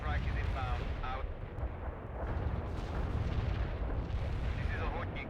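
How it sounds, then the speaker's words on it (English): Anti-tank strike explosions rumble in the strategy game World in Conflict, a dense continuous roar of low booms and blasts with faint radio-style voices mixed in. "Anti-tank strike is inbound"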